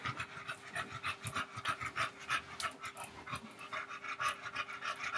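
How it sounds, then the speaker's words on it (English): A dog pants loudly and steadily close by, quick rhythmic breaths repeating without pause through the whole stretch, with no talk over it. "I apologize too because my dog is breathing super loud."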